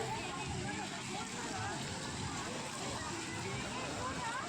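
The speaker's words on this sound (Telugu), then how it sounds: "ఇక్కడ డాల్ఫిన్స్ ఉన్నాయి చూడండి వాటి మీద వాటర్ వస్తున్నట్టున్నాయి" Fountain water spraying over dolphin statues at Komati Cheruvu lake in Siddipet, a steady close rushing wash that continues without a break while a person talks over it.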